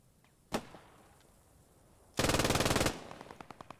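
A German MG-42 machine gun in the Post Scriptum war game fires one sharp shot, then a dense buzzsaw-fast burst that cuts off abruptly, followed by fainter, slower crackling reports trailing away.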